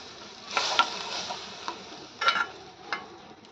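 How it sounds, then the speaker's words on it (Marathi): A spoon stirs rice into milk in a pot while making kheer, a few soft scraping swirls and light clinks spaced apart, quiet and close with no voices. "हे छान आपण मिक्स करून घेऊया।"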